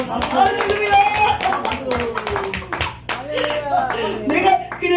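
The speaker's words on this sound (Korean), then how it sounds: "박수 한번 쳐줘봐요." Congregation at a Korean church revival service clapping in quick, uneven bursts, with voices talking and calling out over the claps.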